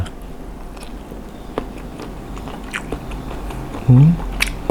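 Someone eats crunchy grilled squid close to the microphone, producing several soft bites and chewing clicks over low background hum, ending with a brief louder crunch.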